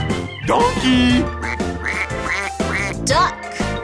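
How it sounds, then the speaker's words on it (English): Duck quacking in a children's alphabet song, several loud nasal quacks in a row over cheerful music. "Duck."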